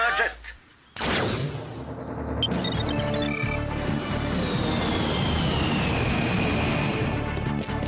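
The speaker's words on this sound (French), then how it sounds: "Je vous envoie un jet." A jet aircraft roars past in the Totally Spies cartoon, a loud, sustained broadband rush with a falling whine that swells after a brief quiet start and holds steady to the end.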